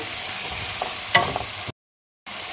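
Utensil scraping and stirring shrimp with seasoning in a sizzling pan, a few clinks over steady frying, then a brief gap of silence before the sizzle resumes.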